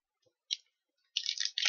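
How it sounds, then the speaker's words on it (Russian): A chocolate-glazed candy's wrapper being opened, quiet crinkly clicks at first, then a close burst of rustling plastic crackle toward the end, with no talk. "Теперь откроем конфету."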